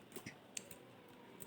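A computer keyboard gives a few soft, scattered keystroke clicks, faint and close over a quiet room hiss.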